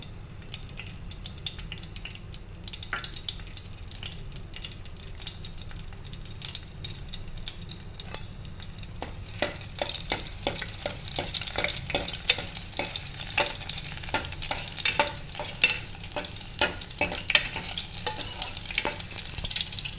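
Crushed garlic fries in hot oil, a soft steady sizzle that grows busier halfway through, with frequent scraping and clicking of a stirring spoon against the pan.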